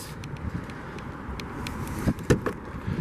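Someone unlocks and opens the door of a 2017 Jeep Wrangler Willys Wheeler. A few sharp close clicks and a latch thud stand out over a steady outdoor background hum, with no speech.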